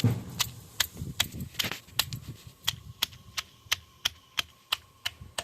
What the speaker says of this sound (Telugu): ఇప్పుడు దొండకాయ ముక్కలు వేసుకొని నూరుకుందాం కొంచెం కొంచెంగా వేసుకుంటూ కొంచెం కొంచెంగా నూరుకోవాలి